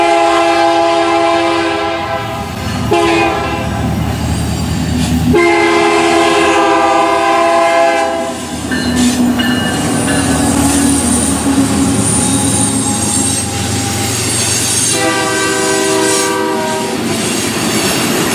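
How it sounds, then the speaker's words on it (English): Canadian Pacific 7023, an EMD SD90 locomotive, blasts its horn at a town street crossing in Circleville, loud and close, in repeated long chords over the rumble and clatter of the passing train. "we then saw the train at the South Scioto Street crossing as it was blasting its horn"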